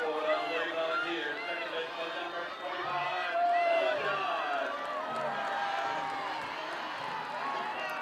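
A large crowd at a college softball game keeps up a loud, steady roar of cheering and noise, filling the stands throughout.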